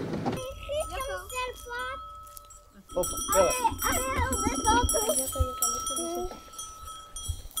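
Goats bleat in short wavering cries close by, overlapping with a woman's excited, affectionate talking throughout.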